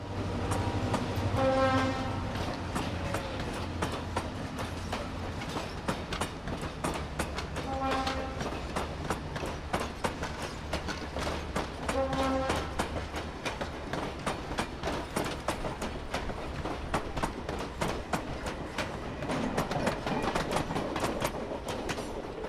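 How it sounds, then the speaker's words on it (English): A steam locomotive slowly pulling empty coaches out of a station, wheels clacking rhythmically over rail joints, with a few brief horn or whistle blasts early on and steady mechanical rumble. "The empty coaching stock is pulled out of the station by number 5018"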